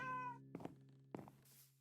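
A Minecraft cat gives one clear, tonal meow at the start, followed by two soft thunks, all quiet and close.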